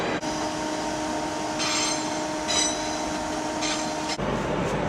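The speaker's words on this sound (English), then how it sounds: "We've arrived at Cologne, and here's what the train looks like at the front." A train standing at Cologne main station: a steady hum of engine and ventilation with sustained electrical tones, faint hissing bursts on top, close and continuous with no talk until a sharp cutoff near the end.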